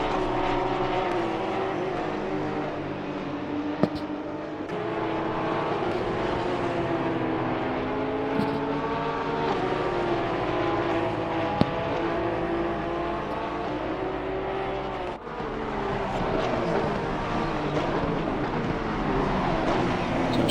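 Porsche Cup race cars at racing pace, continuous loud engine howl with shifting pitch as cars rev and pass, steady throughout with no talk.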